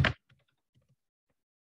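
Keystrokes on a computer keyboard: a brief louder burst of clicks at the start, then a few scattered, faint taps with quiet gaps between them.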